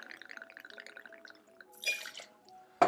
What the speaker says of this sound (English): I'm gonna take 2 ounces of whiskey